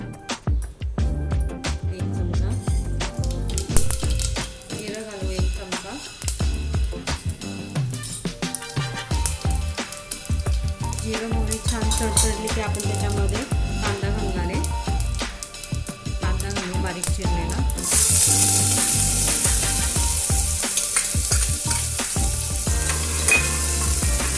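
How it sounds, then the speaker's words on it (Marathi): Mustard seeds sizzle in hot oil inside a pressure cooker while pavta batata bhaji is being made, a dense steady crackle and hiss that grows brighter and louder near the end. "कुकरमध्ये तेल घातले आता छान तेल गरम झालेलं आहे आपलं आता त्याच्यामध्ये मोहरी घालूया"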